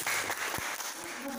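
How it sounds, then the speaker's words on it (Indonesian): Classroom audience applauding during a teaching practice lesson on faith in the messengers, a dense steady patter of clapping filling the brief moment, with some voices mixed in. "beri aplaus."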